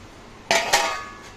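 A lid set on a metal cooking pot while simmering lentils: two quick close clanks, the second slightly louder, followed by a brief fading metallic ring in a quiet kitchen.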